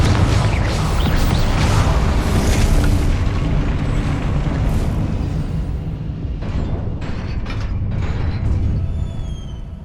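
A loud, booming blast from the Confringo fire spell in the game Hogwarts Legacy, with a heavy rumbling roar that slowly fades and leaves crackling debris and faint mechanical creaks.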